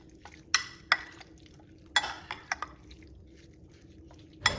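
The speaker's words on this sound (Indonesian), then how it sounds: "Kita aduk sampai bumbunya tercampur." Chicken being stirred with instant marinade seasoning in a bowl, giving a handful of sharp utensil scrapes and clinks spaced irregularly against a quiet background.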